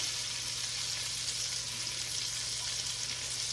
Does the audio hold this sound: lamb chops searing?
yes